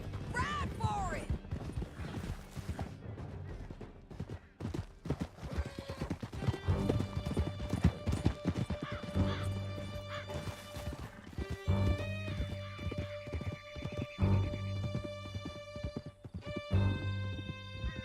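Horses galloping hard through a canyon in Red Dead Redemption 2, with a dense, continuous clatter of hooves, occasional whinnies and a tonal musical score building beneath, while characters shout over the ride.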